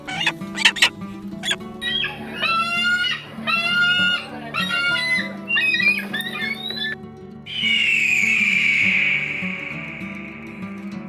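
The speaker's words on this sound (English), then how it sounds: "These are the sounds the eagle makes." Calls of an eagle: a series of sharp, repeated chirping and yelping notes in short bursts, followed by a longer high, thin whistling cry, close and fairly loud over a low steady hum.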